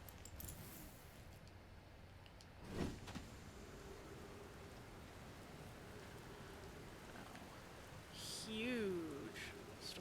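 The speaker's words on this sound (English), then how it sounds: "Huge storm out there. Everything is rainy" A rainstorm inside the video game Outer Wilds hisses as a steady, faint wash of rain, with a brief swell near the start and a rising warble of game sound toward the end, while a voice talks at moments.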